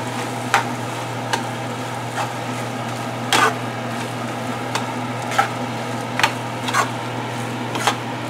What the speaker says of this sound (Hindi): अब इस स्टेज पे हम आलू और बैगन इसमें डाल देते हैं, जो कि हमने मैश करके रखा था, और इसको 1 या 2 मिनट अच्छे से फ्राई करते हैं